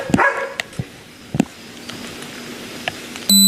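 A police canine barks in a few sharp, spaced bursts outdoors in residential yards, the barks moderately loud against a noisy background, with a short loud burst at the end.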